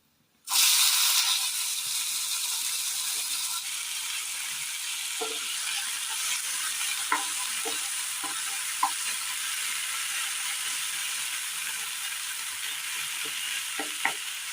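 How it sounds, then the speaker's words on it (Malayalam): Chopped tomatoes hit hot oil in a pan with a sudden loud sizzle that settles into a steady frying hiss, with occasional light taps and scrapes of a stirring spoon, and no voices. "ഇതിലേക്ക് നമ്മൾ അരിഞ്ഞു വെച്ചിരിക്കുന്ന തക്കാളി ഇട്ട് കൊടുക്കാം"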